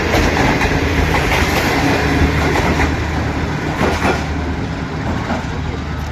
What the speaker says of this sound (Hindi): ये मैक्सिमम इस वक्त जो स्पीड आप देख रहे हैं वो 30 किलोमीटर पर घंटा की रफ्तार से।